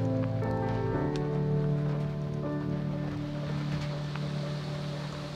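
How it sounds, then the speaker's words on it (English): A steady, dense wash of rain hissing on surfaces, with a low hum underneath and no voices. "now it's raining"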